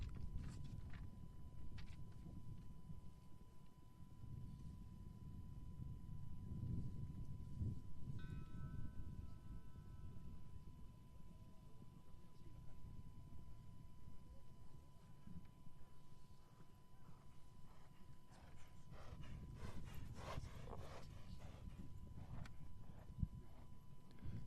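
Horses walking with hooves clip-clopping on the ground at a Nations Cup show-jumping event, a steady, moderately close patter set against a busy outdoor background.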